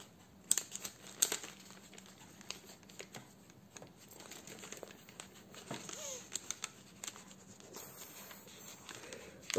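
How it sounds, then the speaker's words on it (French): Small paper bags for a mini album are folded shut and glued, with close, soft crinkling, rustling and light tapping in irregular bursts. "on va fermer tous les soufflets du sac, des petits sacs, on va les fermer, on va tout coller"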